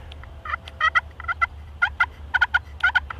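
Wild turkey gobbling repeatedly during a Nebraska turkey hunt, rapid rattling gobbles in several bursts, fairly close and clear over a low steady hum with no talking.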